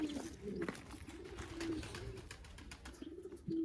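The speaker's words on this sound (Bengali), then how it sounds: "এই যে কবুতর আছে, কবুতর অনেক।" Numerous pigeons kept in a cluttered coop alongside peacocks and country chickens give soft, repeated throaty coos, a few close calls rising over a faint, steady background.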